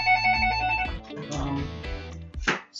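A telephone rings with an incoming spam call, its steady tonal ring running for about a second, then broken, overlapping tones and a sharp burst near the end, all close and fairly loud indoors.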